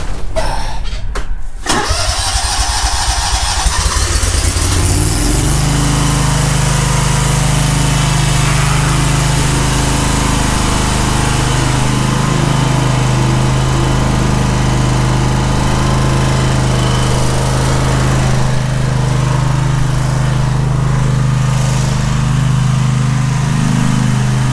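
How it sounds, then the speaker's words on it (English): A riding lawn mower engine cranks and catches near the start, then settles into a loud, steady close-up idle that runs on without a break for the rest of the clip. "I hope to God that this mower starts"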